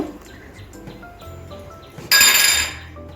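A lid set onto a cooking pan of softening tomatoes and spices for masala paneer. A single sharp metallic clink and a brief bright rattle ring out loudly over quiet kitchen background.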